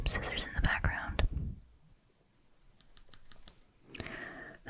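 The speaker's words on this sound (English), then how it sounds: "I think you can hear some scissors in the background." Scissors snip in the background during a whispered focus game: a short run of sharp, crisp cuts stands alone in a quiet stretch, with soft whispering before and after.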